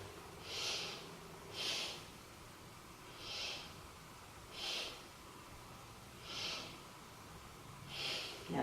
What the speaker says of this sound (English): let's take 3 breaths here